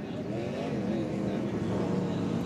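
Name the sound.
NASCAR race truck engine fired back up and revving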